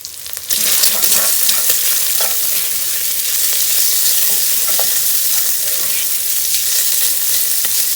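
Bacon frying in a pan on a stovetop for potato soup, a loud steady crackling sizzle that starts abruptly and holds constant throughout, with no talking.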